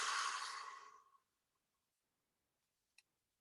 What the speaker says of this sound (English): Big blowing candle breath out.